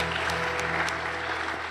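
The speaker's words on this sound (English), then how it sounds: "So how about a round of applause for Oakland Church for coming alongside of us" A church congregation applauds during a Sunday service, with steady, moderately faint clapping throughout under a low hum.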